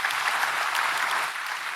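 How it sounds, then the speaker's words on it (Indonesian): A church congregation claps steadily through a worship service, a dense, even wash of applause without pause. "Coba beri tepuk tangan buat Tuhan Bapak."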